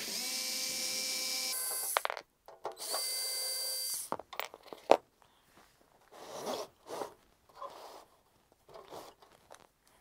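A powered screwdriver backs out the Phillips screws that hold the rack mount ears on a Sony PC-1271. Two steady whirring bursts are followed by scattered clicks and handling noises, with no talking.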